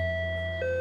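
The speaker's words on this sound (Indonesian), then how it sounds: "si paman berulang kali memencet bel rumah itu." Electronic house doorbell chime ringing with steady sustained tones that shift pitch partway through, loud and close with no talking.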